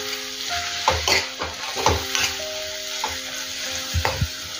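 Spinach and onion-chili paste get stirred and pressed in a hot pan, with a steady sizzle broken by repeated scraping and clinking strokes of the spoon against the metal.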